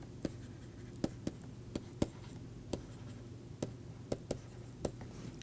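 Irregular taps and short strokes of writing on a board during a linear algebra lecture, faint and close, over a low steady room hum with no talk.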